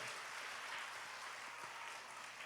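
Applause from a children's prayer gathering congregation in a church service, a steady wash of clapping at moderate volume that continues evenly throughout with no speech over it.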